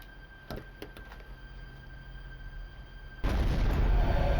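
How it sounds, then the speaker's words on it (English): An explosion sound effect bursts in as a sudden loud boom after a few faint muffled knocks, then holds as a heavy, sustained rumbling roar up close. "the sound of an explosion sent him rushing to the window"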